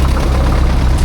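A restored Ford 960 tractor engine runs at a small-town 4th of July parade, giving a loud, close, steady low idling rumble with no voices over it.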